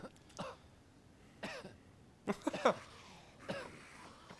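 Several separate coughs and throat-clearing bursts from a player of the video game The Evil Within, spaced irregularly, with a cluster of harsher coughs in the middle, close by and otherwise quiet.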